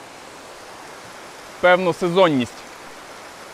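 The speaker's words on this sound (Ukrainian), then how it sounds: "Водоспад Великий Гук – найбільший водоспад Буковини, заввишки 19 метрів." Velykyi Huk, a 19-metre waterfall on the Smuhar river in Bukovina, roars as a steady broadband rush throughout while a voice speaks briefly over it in the middle.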